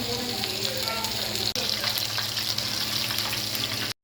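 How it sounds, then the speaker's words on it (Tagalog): Chicken pieces frying in hot oil in a pan, a dense steady sizzle and crackle that runs unbroken for several seconds, close and loud, with one brief dip midway and no talking. "nung mainit na nga, ayan nga at nag-start na nga ako magprito ng chicken"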